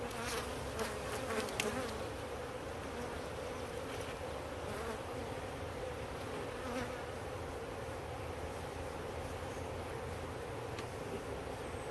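Honey bees from a nuc being installed into a hive box in a backyard apiary drone in a steady, close buzz, with a few brief louder passes early on and no talk.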